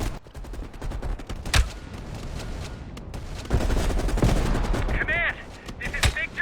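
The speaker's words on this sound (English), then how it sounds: "You readied your sniper rifle to assist." Gunfire from a sniper rifle in the Black Ops Cold War campaign, a game set amid a Soviet outpost and Vietnam-era fighting, with several loud sharp shots over dense continuous battle noise and distant fire.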